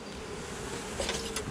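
Honeybee swarm in April at a backyard hive, a dense, steady buzz of many bees close by, continuous and alone with slight swells toward the end.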